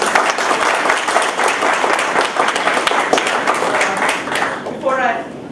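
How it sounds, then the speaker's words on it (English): A lecture audience gives a round of applause for a guest speaker, a thick, continuous wash of clapping from many hands that stays loud throughout and tapers slightly near the end. "Please welcome Dr. Narayan with a round of applause"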